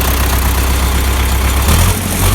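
A vehicle engine runs loud and close, its revs climbing sluggishly rather than sharply after a fuel system repair, holding a thick, steady drone with a slight shift partway through and no voices.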